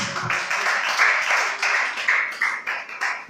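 A church congregation claps hands for Jesus Christ during a sermon on walking by faith, dense continuous applause from many people with a steady rhythmic pulse, loud and close with no talking.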